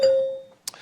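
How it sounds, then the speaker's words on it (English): A single clear electronic bell tone at a televised presidential primary debate rings out and decays over about half a second, followed by a brief soft rustle. "a bell will sound like this."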